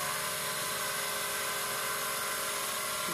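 Lathe spinning at about 2000 RPM while a label cast blank is polished with plastic polish, a steady high whine with a constant hiss throughout.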